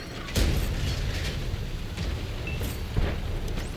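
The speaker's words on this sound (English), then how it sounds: "Our Centaur is shooting HE." A Centaur tank in World of Tanks fires HE shells, giving two heavy booming shots a few seconds apart over a steady low rumble of battle, with no talking.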